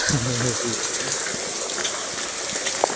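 Steady rain falls outdoors while a courier is out delivering packages, a constant hiss of drops spread evenly across the clip, with a brief voice at the start and faint scattered knocks and splashes.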